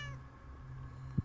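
A single cat meow rises out of ambient game music in The Cat Lady video game, a short, close cry lasting about a quarter second near the end.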